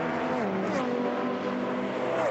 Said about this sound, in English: Love hearing the mixture of machines in GT racing